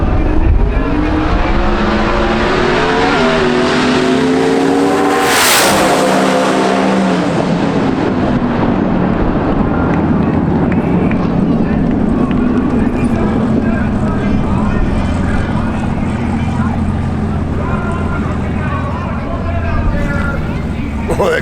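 Corvette drag racing at the TX2K event, a loud engine roaring past with a sharp rising-then-falling pass near five seconds, followed by sustained heavy engine and crowd din; people talk throughout.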